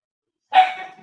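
A pet dog, belonging to the family's son, lets out a single sharp bark indoors after a moment of quiet, loud and close, trailing off quickly.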